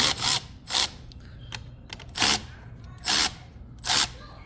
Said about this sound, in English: You just need to loosen them up